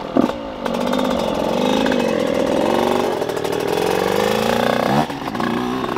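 A 2008 Husqvarna 125 CR two-stroke dirt bike engine runs close by after a brief sputter, holding a loud, raspy buzzing drone with wavering revs for several seconds before dipping near the end.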